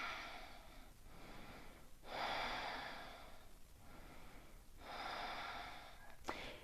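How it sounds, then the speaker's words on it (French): Slow, deep breaths during a power yoga exercise, with long inhales and exhales alternating in a steady rhythm close to the microphone and a short sharp sound at the end. "3 respirations, tu vas sentir que le centre est engagé."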